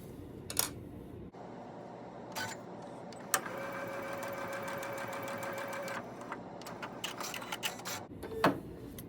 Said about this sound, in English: I'm going to sew along this pattern line